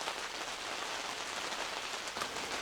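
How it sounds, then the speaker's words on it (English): Steady, dense rain pattering on a surface at a winter camping site, a continuous hiss with no voices. "As soon as it quits raining,"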